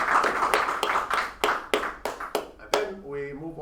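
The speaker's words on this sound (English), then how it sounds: "let's give a big round of applause for Polina for double pitch" A small audience at a startup pitch event claps in a steady, regular rhythm of distinct slaps, close and moderately loud, with a few voices faintly underneath and a brief tonal voice at the end.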